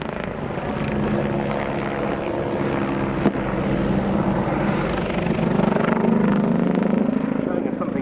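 An Italian-designed and built helicopter's steady rotor thrum and engine whine carry throughout at moderate loudness while someone talks over it, at an RAF airshow.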